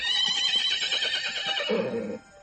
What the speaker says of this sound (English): We know it as the horse.